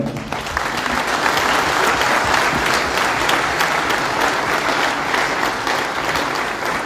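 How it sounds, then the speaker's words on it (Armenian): Sustained, dense applause from a large crowd at a Mother Armenia election rally in Gyumri, steady and loud throughout with no gaps. "ես խնդրում եմ ծափահարել"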